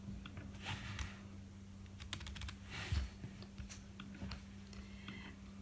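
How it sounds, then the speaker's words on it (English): Steady typing on a computer keyboard while entering property details: a quiet run of soft key clicks with a few sharper taps over a low electrical hum, with no talking. "I'm just typing in the description of everything."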